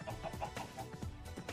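Chickens in the Minecraft modpack Sky Factory 3 cluck in quick, overlapping bursts, a faint but busy stream of short clucks repeating throughout.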